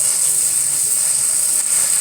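Steady, loud hiss of a gas torch used to repair a chrome wheel rim, like escaping gas or steam, continuous and unbroken throughout.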